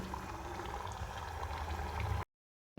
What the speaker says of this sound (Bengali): বাকিগুলো ঠিক একই রকমভাবে ভেজে নেব